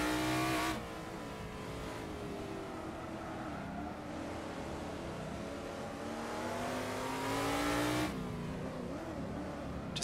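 Camaro Trans Am race cars at Winton in the racing game Assetto Corsa rumble continuously with deep, rising and falling engine tones as they rev and accelerate, loud and steady throughout with no talking.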